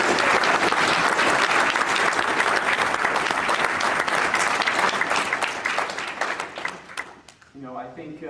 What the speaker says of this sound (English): I want to start by giving another huge round of applause to Orry.